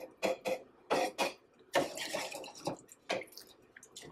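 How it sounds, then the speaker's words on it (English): Vegetable broth being stirred in a pot for halal cart chicken over rice, giving a series of close, irregular sloshing and scraping bursts of liquid and spoon against metal, with no talking. "Now I'm going to add the vegetable broth. Ooh-wee! Give this a quick mix."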